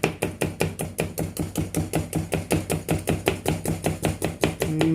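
Rapid, regular knife chops on a cutting board, about four or five sharp strokes per second, close and loud, cutting ingredients for kokkavada without any talk.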